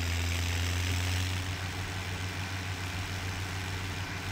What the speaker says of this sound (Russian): Доходяжный трактор.